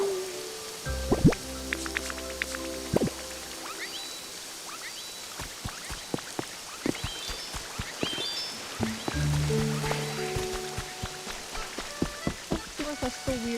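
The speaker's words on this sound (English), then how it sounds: "It's raining right now." Rain falls in a video game, a steady patter of drips and droplets striking surfaces, with scattered sharper drops and some low tonal game sounds underneath.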